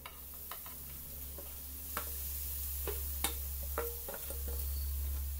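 Grated carrot and moong dal cooking in a pan, a faint low sizzle under occasional light ticks and scrapes of stirring, close and quiet with no talk.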